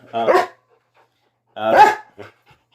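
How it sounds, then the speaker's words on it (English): A dog barks loudly and close by in two short bursts about a second apart, with a small yip trailing the second, inside a home. "when I start a video, it just starts barking"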